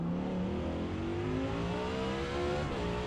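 A 2018 Audi R8 LMS GT3 race car in the Forza Motorsport racing game, its engine droning loud and steady as the pitch climbs smoothly through a long rev, heard alone without talk.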